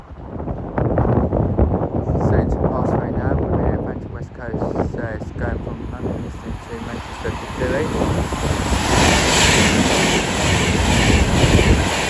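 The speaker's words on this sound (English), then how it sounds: "Alston, the Pendolino 390-104." An Alstom Class 390 Pendolino passes at Watford Junction on the West Coast Main Line, a loud sustained rush with rail clatter and wind buffeting the microphone, building toward the end, with a voice talking over it early on.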